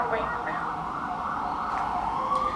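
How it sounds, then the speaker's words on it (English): Emergency vehicle sirens on a New York City street, a sustained wailing tone sweeping slowly up and down against steady traffic noise, fairly loud and close throughout. "New York City sirens, man."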